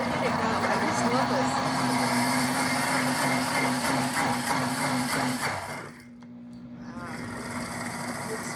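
A cooking blender runs steadily while making spicy pizza sauce, a loud continuous motor whir that cuts out abruptly near the end before a quieter hum resumes.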